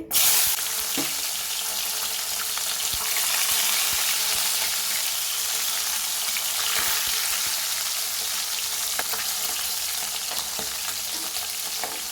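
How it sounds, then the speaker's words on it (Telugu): Dried fish hits hot oil with a sudden loud crackle, then settles into a dense, steady sizzle of frying that fills the whole stretch without talk. "ఆయిల్ వేడెక్కింది కదండి ఇప్పుడు ఎండు చేపలు వేయాలి"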